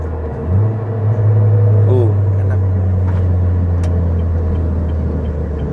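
A tuned, modified Honda Brio engine hums steadily from inside the cabin while driving, low and smooth, with a soft, quiet exhaust drone and no loud revving.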